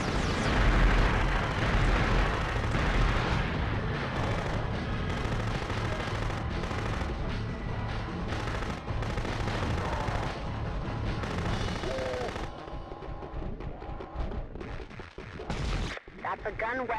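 Dense, continuous game gunfire and explosive bursts from Future Cop LAPD fill the mix, loud and steady for about twelve seconds before thinning into sparser bangs; a voice talks over the action.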